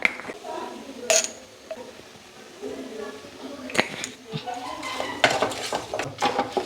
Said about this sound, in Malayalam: അതിനുശേഷം നന്നായിട്ടൊന്ന് വഴറ്റുക അല്പം മഞ്ഞപ്പൊടിയും കൂടി ഇട്ട് കൊടുക്കുക